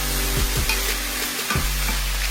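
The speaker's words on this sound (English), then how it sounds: "Stir that up." A spoon stirs a homemade cornbread dressing mixture with garlic in a hot pan, with a loud, steady sizzle and several quick scraping strokes close up.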